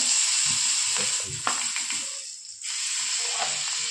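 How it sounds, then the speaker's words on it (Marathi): Butter melts on a hot tava griddle with a soft, close hiss and faint crackle, broken by a few scraping touches of a spatula; the sizzle dips briefly midway, then returns. "आता आपण तव्यावरती बटर टाकून घेणार आहोत।"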